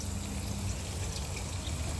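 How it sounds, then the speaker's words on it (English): Fresh fuel with a little two-stroke additive pours through a filter into a Toro 826 snowblower with a Briggs 8 hp engine, a steady, close, continuous liquid rush with no talking. "I always pour through a filter."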